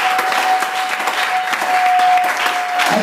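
Church congregation applauding together, a loud dense clatter of many hands clapping continuously with a faint sustained tone running beneath, filling the room without pause.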